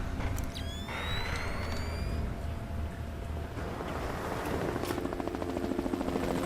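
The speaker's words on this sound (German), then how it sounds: "Und hier ein Hubschrauber." A helicopter in the video game Splinter Cell: Chaos Theory thrums with a steady, fairly faint rotor drone and rushing wind, continuing without any talk.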